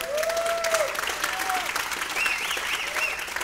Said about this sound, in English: Clap for Jamel.